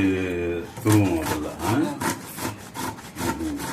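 Raw mango is grated by hand in short, rhythmic rasping strokes, close and fairly loud, while someone talks over the scraping.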